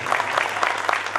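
Crowd clapping along at a devotional gathering, a steady, rhythmic patter of many hands keeping an even beat throughout.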